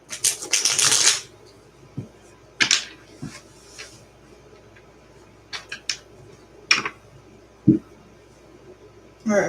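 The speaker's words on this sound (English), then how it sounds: "I am going to shuffle this in front of the camera" Tarot cards shuffled by hand in bursts: a dense riffling flurry at the start, then scattered short slaps and clicks of the deck between pauses, close and fairly loud with no talking.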